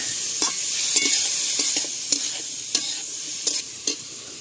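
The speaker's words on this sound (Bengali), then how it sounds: "এই যে চিকেন ভাজা হচ্ছে এখন।" Chicken frying in a pan over a wood-fired stove, a steady close sizzle broken by sharp clinks and scrapes of a stirring utensil at irregular intervals.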